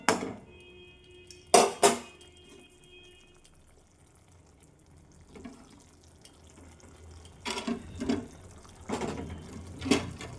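Koi fish pieces go into simmering bottle gourd broth in a pot, with splashy plops and wet clatter in short bursts, broken by quiet gaps and a faint bubbling.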